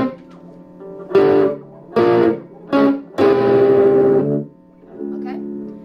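An electric guitar plays a riff. Three short, punchy distorted chords come first, then a long held chord and a softer trailing note, played alone and close.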